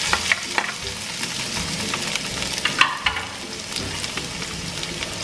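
Steady sizzling of lemongrass and minced chili frying in hot oil, a constant crackling hiss with occasional louder pops and stirring scrapes, close by.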